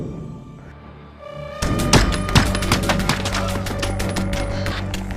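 Rapid gunfire in a film action scene as a man fires nonstop at intruders: a quiet lead-in, then a loud, dense burst of sharp repeated shots and thuds that continues steadily to the end.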